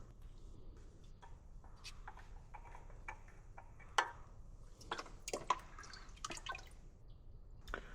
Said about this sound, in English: Let that drip a little bit before taking the whole thing off.